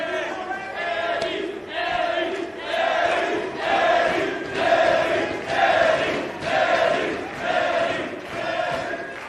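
A large arena crowd at a professional wrestling tag team match roars and chants in rolling, rhythmic swells, loud and continuous throughout.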